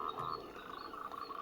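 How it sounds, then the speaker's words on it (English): A white noise machine sold in a Nairobi shop plays a frog croaking sound, a quick run of rhythmic, buzzing croaks over soft background hiss. "I can return the frog."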